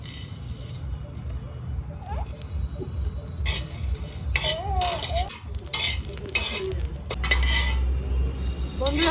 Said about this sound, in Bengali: এটা আমি শুকনো খোলায় ভেজে নিব